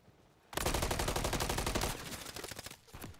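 Rapid automatic gunfire from a video game in the Call of Duty series, loud and sustained for over a second, then trailing into scattered shots.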